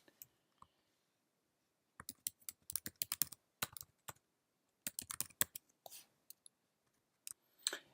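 Close, crisp keystrokes tap on a keyboard in irregular bursts while a user ID and password go in for a cloud account, with short silent gaps between the clusters of clicks.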